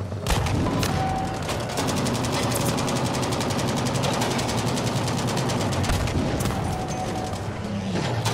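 A Tiger tank in the Battlefield V video game opens fire amid a dense battle, with rapid machine-gun bursts, heavy booms and engine rumble running continuously and loud throughout, with no talking.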